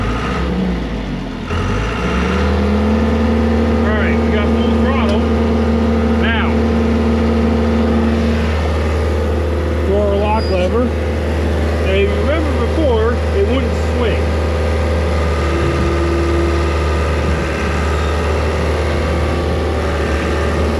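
A John Deere 190E excavator diesel engine cranks over, catches and settles into a loud, steady rumbling idle with throttle changes, while someone talks over it.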